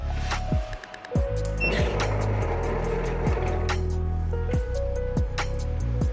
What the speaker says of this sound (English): We are starting the sealing process and showing this to you. First, we will seal the beverage lid.